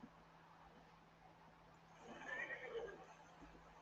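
A horse whinnies in the Red Dead Redemption video game, a single faint neigh rising partway through over quiet background hum.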